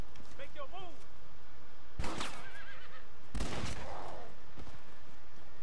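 A horse whinnies in the zombie-themed western game Red Dead Redemption Undead Nightmare, a short wavering neigh near the start, then sharp gunshot cracks and another brief call amid game noise and players talking.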